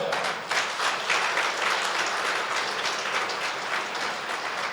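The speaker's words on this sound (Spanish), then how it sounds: "Aplaude al Señor." A church congregation applauding during a celebration service, dense sustained clapping from many people filling the space evenly throughout.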